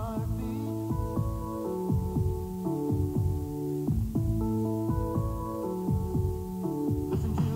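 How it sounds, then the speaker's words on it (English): Throbbing heartbeat-style effect in a 1986 Chevrolet Corvette television commercial, with steady repeated low pulses blended into droning tonal music that sustains throughout. "Put yourself in today's Chevrolet Corvette and listen to your heartbeat."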